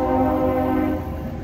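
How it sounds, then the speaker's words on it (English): A train passing behind the trees at a zoo, a sustained tonal horn-like hum with a low rumble, steady and moderately distant, fading slightly at the end. "there's a train of some sort going by"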